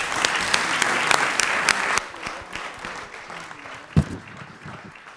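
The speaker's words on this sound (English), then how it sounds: "Everyone, round of applause." Conference audience at a regional meeting in East Africa claps loudly for about two seconds, then the applause drops to scattered faint claps with a sharp knock near the end.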